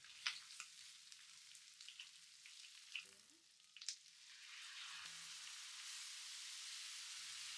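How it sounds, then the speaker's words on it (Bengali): Ground coriander and cumin spice mix sautéing in a pan for a kochu shak (taro leaf) curry, soft steady sizzling with occasional stirring scrapes, turning into a continuous fry hiss. "এবার সব একসাথে মিক্স করে আমি 4-5 মিনিটের মতো কষিয়ে নেব।"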